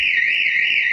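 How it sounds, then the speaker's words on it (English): A loud car alarm blares from a widebody Nissan GTR, one sustained piercing electronic tone that wavers slightly in pitch and stays close and steady throughout. "That's a loud alarm."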